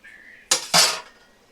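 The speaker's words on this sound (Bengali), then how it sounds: "দেখো আমি ঢাকাটা দেখো খুলে নিচ্ছি" A metal lid lifts off a cooking pot of gourd and shrimp curry, giving two quick, bright metallic clanks in close succession after a faint steady tone, then a short ringing fade.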